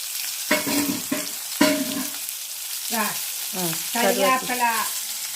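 Curry leaves and mustard seeds fry in a hot pan, giving a steady close sizzle with spurts of stirring and intermittent tonal background sounds.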